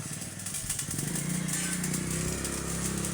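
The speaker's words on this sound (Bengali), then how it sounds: "ইঞ্জিন ওঠাবো।" A machine engine, run alongside a rice-husking setup with a differential and back pressure, runs steadily and loudly throughout with a dense, continuous rumble and a rising drone, close to the microphone with no speech.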